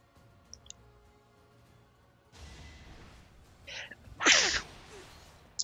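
A single sharp sneeze bursts out close to the microphone, preceded by a short sharp intake and a softer breathy sound, over quiet room tone with faint ticks.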